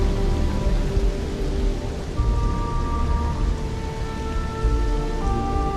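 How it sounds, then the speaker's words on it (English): Rain pours steadily in the game Starfield, a dense, continuous hiss and patter with a low rumbling undertone, filling the whole stretch without a break. "It'd be nice if it would stop raining."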